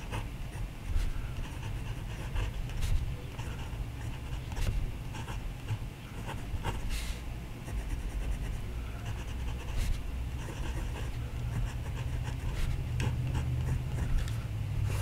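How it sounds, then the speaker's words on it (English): Fine steel nib of an Asvine V126 cordierite fountain pen scratches across paper in short, close strokes with brief pauses between letters, quiet and dry. "Show you how this fine nib writes in the blue pen"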